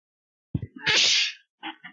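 A single sharp sneeze erupts from a brief inhale into a loud burst, followed by a couple of soft sniffs or murmurs.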